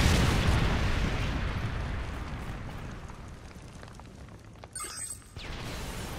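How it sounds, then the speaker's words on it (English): A Predator missile explosion in Modern Warfare 3 rolls out as a broad, loud boom that slowly decays into a long rumbling tail, followed by a brief sharper burst near the end. "Friendly Predator missile inbound."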